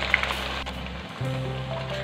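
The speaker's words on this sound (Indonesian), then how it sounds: "sekarang mau aku goreng hotangnya sampai warnanya kuning keemasan dan juga matang" Hotang, a hot dog skewer, deep-frying in oil until golden, a steady soft sizzling hiss that drops out briefly and returns slightly lower and fuller.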